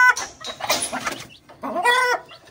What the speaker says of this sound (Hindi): देखो ये मुर्गी कहाँ पहुंच गई